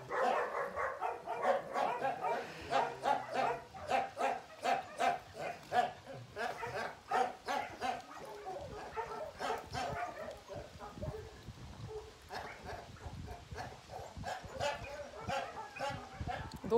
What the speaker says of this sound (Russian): а у меня сейчас все собаки вот там вот гуляют в основном.